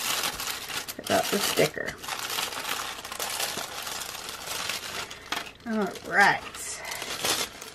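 Packaging of a Valentine's mystery junk journal kit being opened, with close crinkling and tearing of plastic and paper in bursts, a few small clicks, and someone talking over it.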